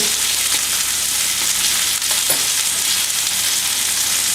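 Sous vide hanger steak searing in butter in a hot pan, a loud, dense, unbroken sizzle that stays level from start to finish, close up and with no one talking.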